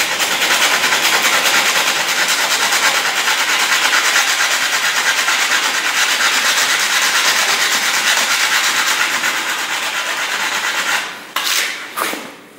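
Steady, continuous abrasive rasping of sanding rust off a VW T4 van body, loud and close, running unbroken before a few short scrapes and a fade at the end.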